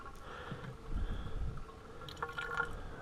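A faint trickle and drip of water running into the narrow fill tube of a self-watering bucket planter, quiet and continuous with a few brighter drips.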